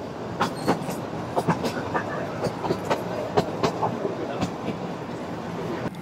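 The Kalka–Shimla Vista Dome toy train, the Him Darshan Express, rolls along the narrow mountain railway with a constant rumble broken by rhythmic clickety-clack beats of wheels crossing rail joints.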